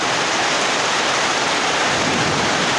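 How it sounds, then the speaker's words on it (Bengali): Heavy rain in Agartala pours down as a loud, dense, unbroken hiss, steady throughout with no voices over it. "দেখ আমরা আগরতলা প্রচণ্ড বৃষ্টি হইতেছে"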